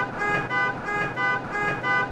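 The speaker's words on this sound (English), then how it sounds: "Traffic noise, really," A car horn honks in a steady repeating pulse, about four beats in two seconds, over loud New York street traffic noise.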